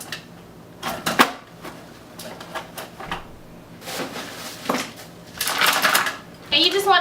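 A hand-crank ice cream maker is turned while ice is added, bringing intermittent clattering and rattling of ice against the bucket in uneven bursts, with a person talking throughout.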